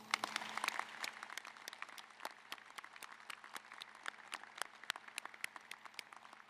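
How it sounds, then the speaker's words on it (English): Sparse, fading applause at a university opening convocation honoring academic leaders, with distinct individual claps ringing out in a large hall after the initial burst. "Let's please give these academic leaders a round of applause."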